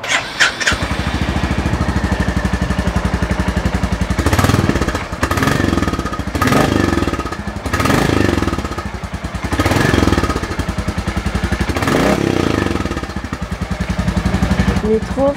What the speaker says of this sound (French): le bruit de l'échappement